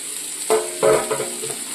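Grated coconut being sautéed in a pan, a short soft sizzle broken by two scraping stirs of a spatula, close and fairly loud, with no talking.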